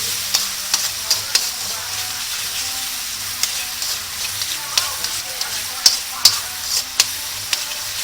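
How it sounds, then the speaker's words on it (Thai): Shallots and garlic stir-fry in a pan for a seafood pasta, a steady soft sizzle broken by repeated sharp clacks of a utensil scraping and tapping the pan. "เราก็ใส่หอมกระเทียมก่อนเลยครับ แล้วผัดให้มันหอม"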